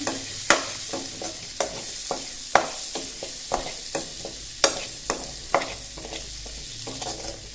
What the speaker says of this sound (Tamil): ஸோ வெங்காயமும் பச்சை மிளகாவும் வேகட்டும், கொஞ்ச நேரம் வதங்கட்டும்.